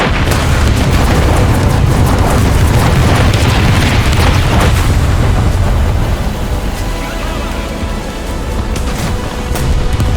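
Tank cannon fire in the video game War Thunder, where a T-80 shoots APFSDS rounds: loud, heavy booms with long rumbling tails over a continuous low engine roar, close and powerful.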